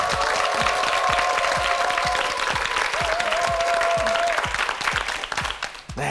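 A TV quiz-show studio audience applauds loudly and continuously while short electronic tones sound over the clapping, which thins out and fades near the end.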